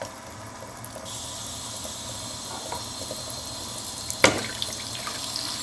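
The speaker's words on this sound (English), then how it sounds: "the sink is being filled with water" Water running from a tap into a sink, a steady rushing hiss that strengthens after the first second and stays constant, with a short sharp clatter near the end, no voices.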